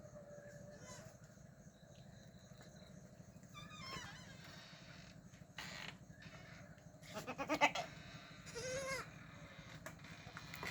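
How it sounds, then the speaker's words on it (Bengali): Black Bengal goats on a farm at night, including young kids about a month old, give a few scattered bleats from moderate distance. The calls are fairly faint against a steady low background hum. "ব্ল্যাক বেঙ্গল ছাগলের খামার"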